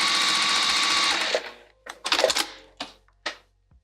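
Sewing machine stitching down the center of a bag pocket, a fast steady whir for over a second, then stopping, followed by a few short separate bursts of stitching.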